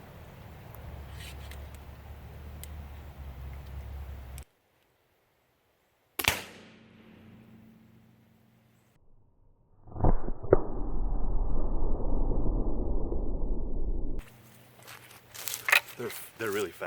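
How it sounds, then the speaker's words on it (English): A gun cotton propelled blow gun fires a dummy round: a sudden sharp pop after a quiet pause, then a loud sustained whooshing rush, with people talking before and after. "let's show you what one of these dummy rounds looks like going down range"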